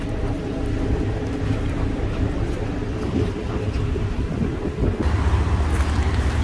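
A boat's motor rumbles steadily as the vessel pulls in at Drottningholm Palace near Stockholm, with wind buffeting the microphone and water churning throughout.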